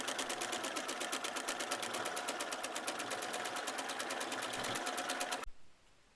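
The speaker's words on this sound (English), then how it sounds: "machine that makes little loop-de-loops with heavy hand-dyed thread." A quilting sewing machine stitches loops with heavy hand-dyed thread, giving off a rapid, even mechanical chatter, close and continuous for several seconds before it stops suddenly.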